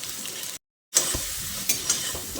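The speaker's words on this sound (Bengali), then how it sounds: "এবার আলুগুলো দিয়ে ফোড়নের সঙ্গে কিছুক্ষণ ভেজে নেব, বেশ লালচে করে ভেজে নিতে হবে।" Potatoes frying with tempering spices in a pan while preparing a vegetarian Malabar spinach dish, giving a steady soft sizzle with a few stirring scrapes and a brief silent gap.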